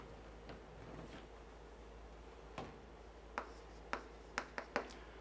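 Chalk or marker writing math on a board during a lesson, a series of sharp taps and short strokes that grow more frequent toward the end, faint and close, with no talking.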